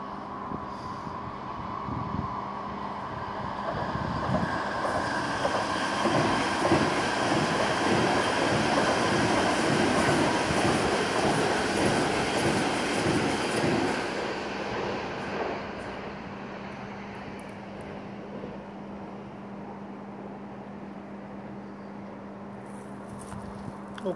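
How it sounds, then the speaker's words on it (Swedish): A commuter train passes near the Citybanan tunnel mouth by Odenplan in Stockholm, swelling from a distant hum into a close rumble with rhythmic wheel clatter, then fading away over a steady ventilation drone. "Oj, nu kommer ett tåg."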